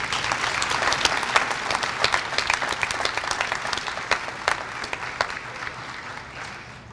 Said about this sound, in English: If you guys can give them a round of applause again